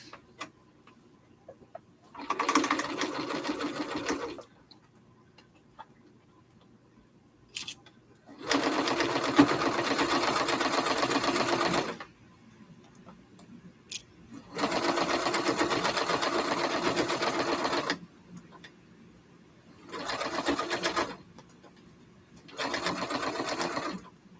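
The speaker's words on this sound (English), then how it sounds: "let me go ahead and sew this" A sewing machine stitching a quilt block: five steady, even runs of rapid whirring and ticking stitching, each lasting a few seconds, separated by quiet pauses.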